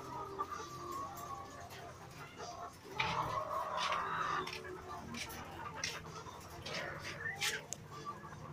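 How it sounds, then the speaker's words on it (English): Newly purchased RTL laying hens cluck and murmur in a backyard poultry pen, with intermittent calls over a low background hum, moderately close and fairly quiet. "these are the newly purchased RTL chicken."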